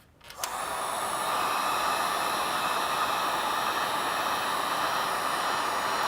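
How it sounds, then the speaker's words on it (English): A heat shrink gun starts up and blows hot air onto waterproof heat shrink butt connector tubing, a sudden click followed by a steady, close breathy rush of air that holds level throughout, with no talking. "But now we get our heat shrink gun."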